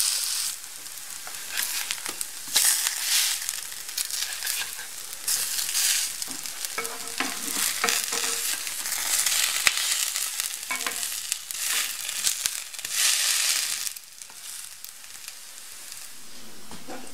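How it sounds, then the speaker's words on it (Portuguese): Pancakes fry in a pan and are turned to brown the other side, giving a steady broadband sizzle with intermittent scraping and clatter that runs close and fairly loud throughout, with no talk. "Depois de alguns minutos, é só virar para dourar do outro lado."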